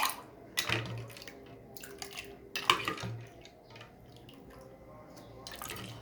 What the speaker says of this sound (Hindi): अब मैं भरने लगी हूँ गिलास।